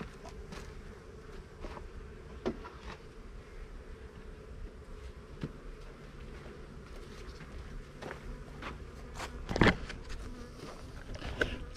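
Bees buzz steadily around an open beehive in a soft, constant drone, with a few louder passes close by and faint handling clicks.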